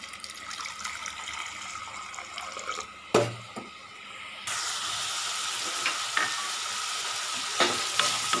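Onions and tomatoes sauté in a pan for a bitter-gourd tamarind curry, a steady soft sizzle with stirring scrapes and a brief clatter near the middle, the frying growing louder in the second half; no talking.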